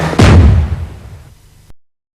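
A single firework explodes with a sharp, loud bang that rolls into a decaying rumble. A smaller pop follows just before the sound cuts off into silence.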